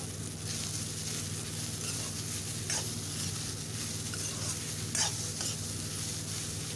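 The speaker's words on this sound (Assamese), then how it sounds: "এইখিনি ভালদৰে লৰাই দিম" Banana stem frying in a pan with salt and turmeric is stirred continuously, a steady close sizzle with scraping stir sounds and a few brief clinks of the spoon, no voices.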